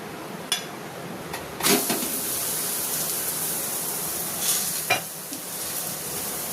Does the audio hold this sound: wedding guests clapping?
no